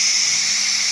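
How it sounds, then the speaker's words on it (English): Steady, loud hiss of steam venting from a Ninja Foodi pressure cooker during pressure release, continuous and unbroken across the whole second with no talk. "So we're going to kill the pressure."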